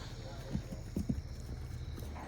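Horse hooves clop a few times on hard ground close by, with faint voices in the background.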